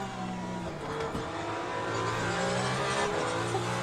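A Ferrari hypercar racing past GT cars at Imola in Le Mans Ultimate, its engine a steady, high-pitched sustained drone with layered harmonic tones from surrounding cars, loud and continuous with no speech.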